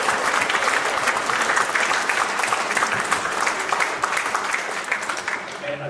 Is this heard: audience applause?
yes